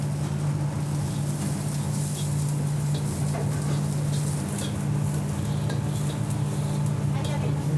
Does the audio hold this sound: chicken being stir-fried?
yes